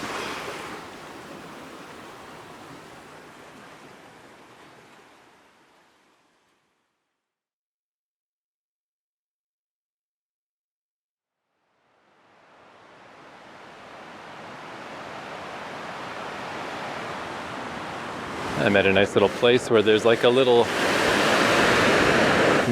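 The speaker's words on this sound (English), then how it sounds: "mini river that goes under the road and out into the ocean." A small river runs under a road and out into the ocean along the Jeju Olle Trail in South Korea. Its steady rushing wash fades away to silence, then swells back up loud while someone talks over it.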